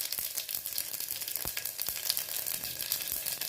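Cumin seeds sizzling in hot ghee, a faint steady crackle and hiss with a few small pops, quiet and close.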